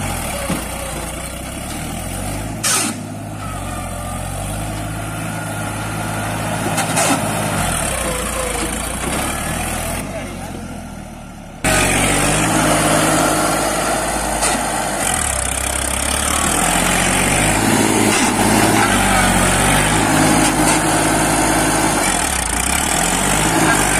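A New Holland 3230 42 HP tractor engine runs with a low, steady rumble that jumps to a louder, fuller roar about halfway through and holds there.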